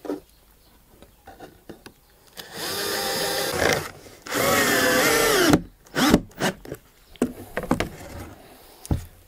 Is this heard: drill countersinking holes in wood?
yes